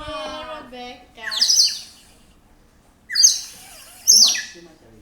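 A toy bird whistle blown in loud, bright chirping bursts, three shrill warbling blasts after a stretch of talk.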